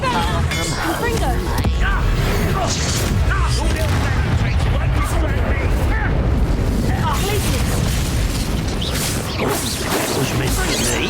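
Fiery Confringo spell blasts from the Hogwarts Legacy video game boom in a dense loud barrage amid combat effects, with voices shouting over the din.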